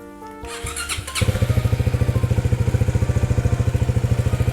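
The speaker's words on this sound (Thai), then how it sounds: "มาฟังเสียงท่อเดิมกันเลย" A 2020 GPX MAD 300 motorcycle on its stock exhaust starts up after a brief squeal, then settles into a loud, close, steady rhythmic idle thump.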